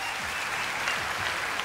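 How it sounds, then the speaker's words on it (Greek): Audience applause at the 1993 Pop Corn Music Awards in Greece, honouring debut singers: a steady, dense wash of clapping from a large crowd, even in level throughout and with no voices on top. "Θα ήθελα να δώσετε ένα μεγάλο χειροκρότημα για όλους τους πρωτοεμφανιζόμενους τραγουδιστές."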